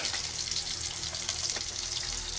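Sahog, the sautéed meat topping for monggo, fries and browns in a pan with a steady, close sizzle and occasional soft stirring scrapes, with no talking.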